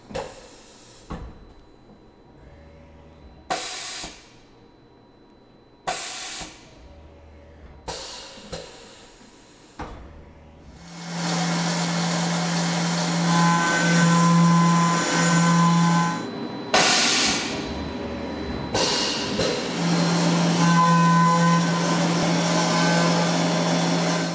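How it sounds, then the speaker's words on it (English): A CNC mill's automatic tool changer swaps a 1/4 inch end mill for the next tool: short separated mechanical clunks and whirs, then a sustained loud whirring hum with a steady tonal drone and further clanks, no talk. "it's going to pull up, throw this tool in the tool changer, grab the next tool, and keep working"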